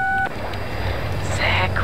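A phone rings in the Answer Knot video game: a brief steady electronic tone opens, then gives way to a low hum of game ambience.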